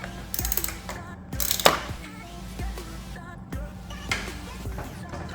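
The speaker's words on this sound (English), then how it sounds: "I'm gonna tighten down that 10mm bolt" Ratchet wrench tightening a 10mm bolt on a 2001-2006 Lexus LS430 with the 4.3-liter 3UZ-FE V8 during spark plug work, a run of close, sharp metallic clicks and knocks with a hum running underneath.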